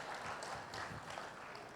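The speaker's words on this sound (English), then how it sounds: "just made them clap" Audience applause in a studio during the launch of a TED Talks India show, a steady wash of clapping lasting under two seconds at moderate loudness, with no voices over it.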